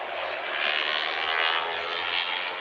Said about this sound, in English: Izam Iqbal on the Yamaha YZF-R3